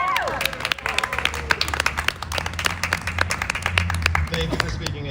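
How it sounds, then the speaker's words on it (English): Audience at a climate strike rally in Portland, Oregon, breaking into sustained applause, dense close clapping with some cheering from the crowd while people talk over it. "Let's get another round of applause."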